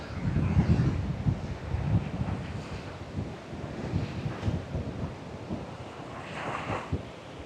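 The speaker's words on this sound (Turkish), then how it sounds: "Biraz dalgalı. Rüzgardan dolayı." Steady wind buffets the microphone over a rolling wash of choppy waves along a public beach in Çeşme, continuous and fairly close, with no voices.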